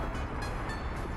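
Train rumble from the city-builder game Workers & Resources: Soviet Republic, a steady dense rolling noise filling the clip alone, with no voices over it.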